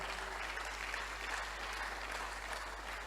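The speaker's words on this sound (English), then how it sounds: "Clap for them well." Steady applause from an audience, a dense continuous wash of clapping at moderate level with no talking over it.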